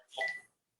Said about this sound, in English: Was that the phone?